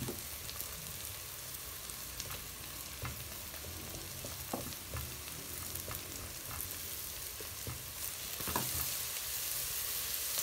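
Garlic frying in a pan with peppers for spicy pasta, a continuous close sizzle with scattered crackles and pops throughout and a slightly louder burst toward the end.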